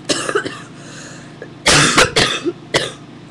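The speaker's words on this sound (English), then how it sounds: "I know what those coughs sound like." A person with an ear infection coughs several times in short harsh bursts, close and loud, with a throat-clearing sound and quieter breathy noises between the coughs.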